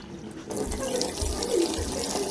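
Water runs from a sink tap during a tap fitting job, a steady close rushing stream that starts abruptly and keeps flowing with small gurgling shifts.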